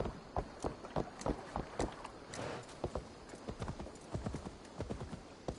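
Rhythmic horse hoofbeats in Assassin's Creed Valhalla clip-clop at a quick, steady pace, fairly close, with a faint whoosh of wind or movement partway through.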